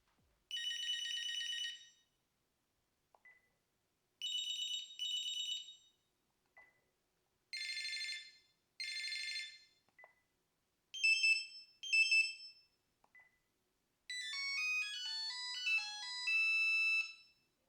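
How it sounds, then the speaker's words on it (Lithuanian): A Nokia 1610 mobile phone cycles through its monophonic ringtones, playing five short electronic melodies one after another, each separated by a brief pause and a soft key beep, loud and close with no voices. "toliau galime pasirinkti skambėjimo toną. Čia būdavo 5 tonai, galim visus pereiti"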